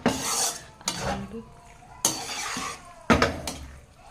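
Pasta is stirred with masala in a pan, the spoon scraping and clanking against the metal in four distinct bursts, loud and close, with quieter shuffling between them.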